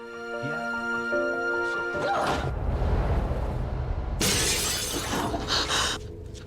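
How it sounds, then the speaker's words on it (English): A glass puzzle box shatters in a dramatic scene, a loud crash with spilling, tinkling shards following a stretch of tonal music, then a second bright burst of debris near the end. "she accidentally breaks the box"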